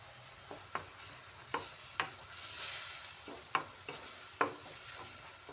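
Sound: stirring chopped ginger with tomatoes in a pan

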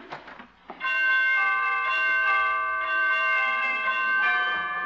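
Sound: door chimes ringing

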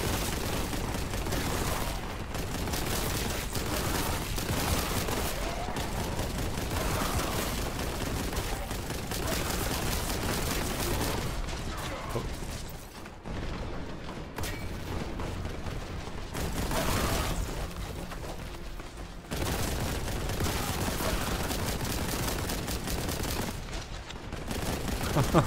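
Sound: gunfire in the video game Boltgun

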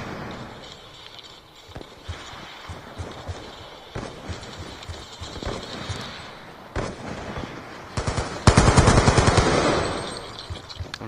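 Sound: AN-94 rifle gunfire in an Xbox Live video game

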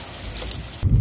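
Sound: heavy rain

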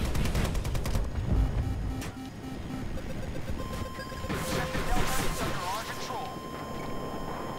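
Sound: LMG gunfire in video game Battlefield 2042

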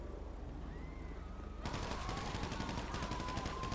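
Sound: gunfire in GTA 5 video game shootout

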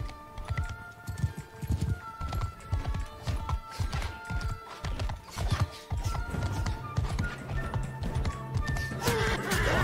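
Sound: horse galloping and neighing in video game Mount & Blade II: Bannerlord

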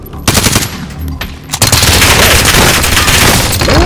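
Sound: gunfire in a video game

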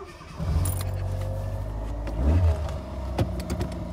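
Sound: Fiat Panda 141 car engine starting

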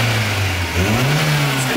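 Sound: Volkswagen Saveiro pickup engine revving

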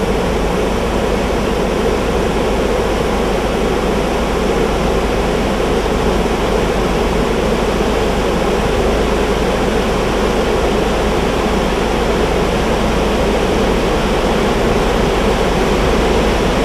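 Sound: overflowing river floodwater rushing

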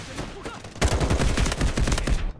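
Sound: gunfire in the video game Delta Force Mobile

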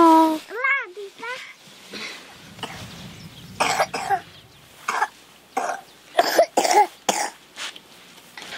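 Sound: children coughing

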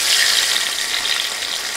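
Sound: fish heads frying in hot oil

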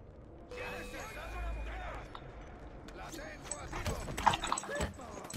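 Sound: horse hooves clip-clopping in the video game Assassin's Creed Syndicate

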